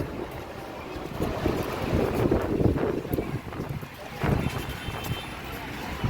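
Loud, continuous roar of sea waves surging and crashing at the beach in Digha, mixed with heavy wind buffeting the microphone.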